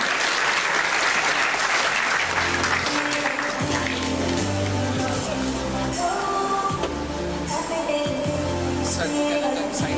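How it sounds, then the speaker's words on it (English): An audience at an international conference claps loudly as a chancellor comes on stage. The dense, steady applause continues while music with a strong bass line starts up underneath and carries on through the clapping. "Can we have a big, big round of applause, ladies and gentlemen?"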